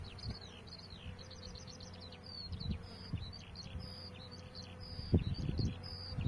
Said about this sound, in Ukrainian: бджоли працюють.